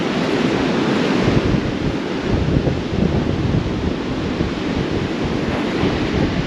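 Strong wind roars across the microphone on a seashore at Kilnsea, a constant loud buffeting rush mixed with the wash of surf, with no let-up throughout.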